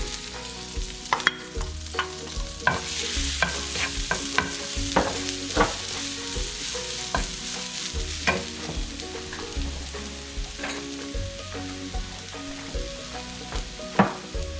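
Mustard seeds crackle and pop in hot oil, a dense continuous sizzle with frequent sharp spluttering bursts, close and fairly loud, no voices.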